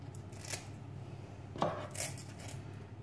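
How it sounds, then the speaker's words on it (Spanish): A few quiet snips of kitchen scissors cutting the fins off a fresh mackerel, sparse and close, with light rustling between cuts and no talking. "Con unas tijeras."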